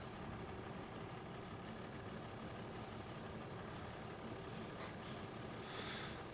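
Water pump filling a farm water tank in Farming Simulator 25, a steady broadband rushing flow with a low engine-like hum running continuously at even loudness, no talk.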